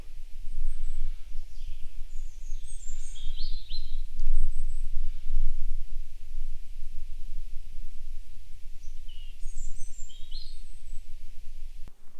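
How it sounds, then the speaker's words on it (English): Birds chirp and sing intermittently at a distance, short high calls scattered over a steady low outdoor rumble, like wind or handling noise. "Listen to the birds, it's beautiful."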